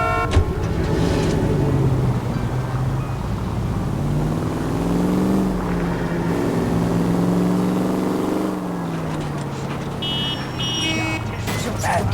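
A car drives through city streets in L.A. Noire, its engine droning steadily and rising and falling in pitch as it accelerates, with a continuous loud hum. Brief voices and a horn-like tone cut in near the end.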